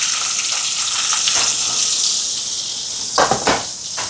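Mustard seeds, fennel, garlic and onion fry in hot oil with a steady, close hiss, then a few sharper crackles and pops near the end.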